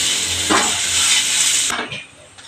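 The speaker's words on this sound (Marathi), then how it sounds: "छान असं गुलाबी होईपर्यंत मी कांदा भाजून घेते." Onion roasting in a pan until pinkish for a spicy modak amti curry gives a loud, steady sizzle, broken by two brief scraping stirs; the frying fades slightly near the end, with no talking.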